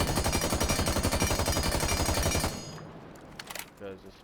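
Spear rifle in Rainbow Six Siege firing a sustained full-auto burst of rapid, evenly spaced shots for about two and a half seconds, loud and close, then cutting off to a few faint trailing clicks and movement sounds.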